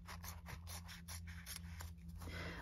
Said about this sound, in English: Let's take some fabric scissors because, you know, I invested in those, so just use them.